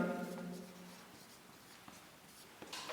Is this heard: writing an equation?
yes